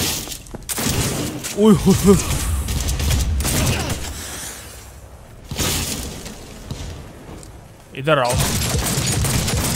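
Rapid gunshots crack and boom from a powerful gun in Cyberpunk 2077, coming in loud bursts across the clip with a whoosh-like tail, while someone shouts excitedly between shots.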